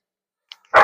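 A dog gives a short yip followed by a single loud, close bark, then silence.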